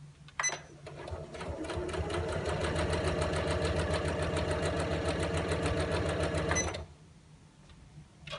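A sewing machine runs steadily for about six seconds, stitching along a fabric edge while making an appliqué lined shopping tote bag, with a fast even hum and clatter that stops abruptly near the end.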